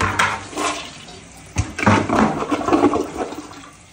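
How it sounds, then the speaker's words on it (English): A toilet flushed by pouring a bucket of water into the bowl: a loud rushing gush that swells, briefly dips, then surges again into churning, draining water, close and continuous for several seconds. "So this is part two of the bucket flush test."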